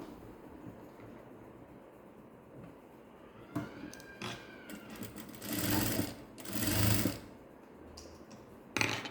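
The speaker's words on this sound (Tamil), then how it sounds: "இப்போ நம்ம இதில் கால் இன்ச்சு ஓரத்தில் தையல் போட போகிறோம் இப்படியே தையல் போட்டுக்கணும்" A sewing machine runs a quarter-inch seam along a fabric edge while stitching a blouse, in uneven bursts with pauses, fairly quiet and close, with faint background noise between runs.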